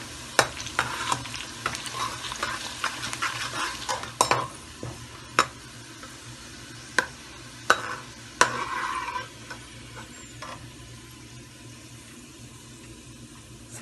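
Onions browning in oil for biryani, a constant sizzle broken by sharp spoon knocks and stirring scrapes against the pot, close and steady, with the frying quieting toward the end and no speech.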